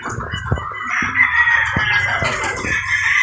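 Gamefowl roosters crowing at a game farm, several overlapping crows ringing out with clucks and short knocks between them, fairly loud and steady throughout.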